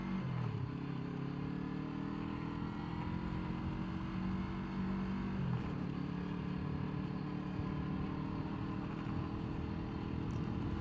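A Yamaha MT-03 motorcycle ridden slowly through a residential neighborhood, its engine droning steadily in low gears with a couple of audible gear changes and pitch shifts, close and continuous with wind noise.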